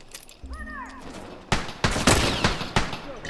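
Rifle fire in a first-person shooter video game cracks out in several loud bursts in the second half, after a quieter stretch with a brief electronic sweep.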